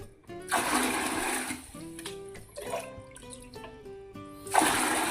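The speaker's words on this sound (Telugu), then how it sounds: "తీసి బకెట్లో పోసుకుంటున్నాం" Aquarium water gushes and splashes into a bucket in several uneven bursts, close by, with a steady tonal hum running underneath.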